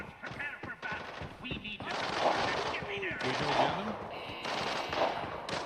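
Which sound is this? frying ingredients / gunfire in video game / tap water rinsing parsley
gunfire in video game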